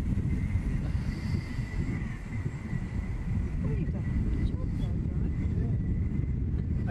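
A Ben Buckle Super 60 low-wing RC model plane flying on its maiden flight, its engine a steady distant drone under half throttle, masked by heavy wind rumble on the microphone.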